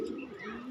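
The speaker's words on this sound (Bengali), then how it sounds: "অনেক স্পিডি একটা কবুতর" Pigeon cooing close by in a home pigeon loft, a short low throaty coo over steady background noise.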